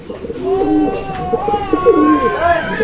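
Male racer pigeon cooing repeatedly, with close, rolling coos that rise and fall over a faint background murmur.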